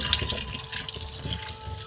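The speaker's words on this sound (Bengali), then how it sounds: "আমি পটলগুলো ভালোভাবে ধুয়ে নেব।" Tap water running over pointed gourds being washed in a sink, a soft, continuous splashing stream with light trickles and drips, close but fairly quiet, with no talking.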